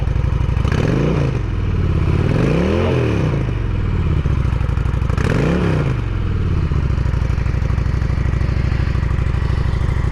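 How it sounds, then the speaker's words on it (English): A 2023 Honda Shadow Phantom cruiser idles close by with a deep, steady throaty exhaust rumble through its shaking pipes, with a couple of brief revs rising and falling in pitch; no talk. "Shaking pipes with a nice low throaty sound."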